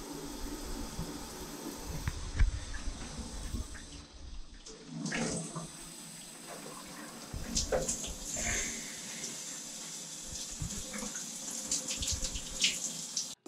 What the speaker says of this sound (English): So I'm about to take a cold shower.